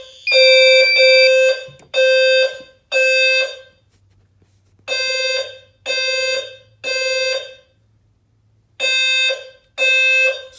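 A fire alarm horn strobe blares in loud, evenly spaced electronic tones during a test of an SFP-10UD power supply, eight blasts in temporal groups with short silences and a faint low hum between.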